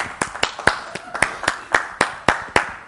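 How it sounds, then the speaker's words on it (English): Steady rhythmic hand clapping from a church congregation, about four sharp claps per second, close and fairly loud, with no talk over it. "Give the Lord a hand clap."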